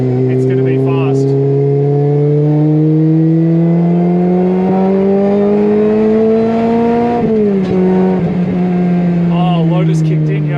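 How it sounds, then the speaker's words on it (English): A Lotus car drives on a track at about 100 km/h, its engine a loud, close drone that climbs steadily in pitch, then drops at a gear change and settles into a steady pull. "I'm on my slow lap, doing around 100 k's an hour"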